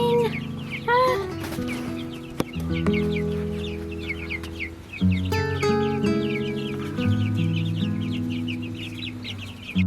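Red broiler meat chickens in a farm flock, clucking and calling continuously up close, with overlapping tonal squawks and a busy chorus of birds.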